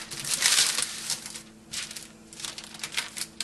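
Parchment paper crinkles and crackles as it is rolled around a log of homemade marzipan in a kitchen, a close, dry rustle in irregular bursts with brief pauses.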